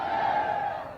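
Roaring, sustained cheering from a large crowd at an Uttar Pradesh election rally addressed by Amit Shah, a dense wash of voices swelling briefly and then fading slightly.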